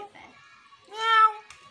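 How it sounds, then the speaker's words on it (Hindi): A cat gives a clear, drawn-out meow close by, preceded by softer indoor sounds. "यहाँ देखो, ये देखो बिल्ली"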